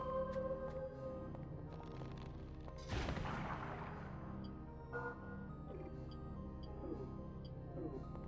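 A loud explosion bursts out in the King's Field IV video game, a sharp boom trailing into a rumbling decay, set against steady game music and a couple of smaller thuds.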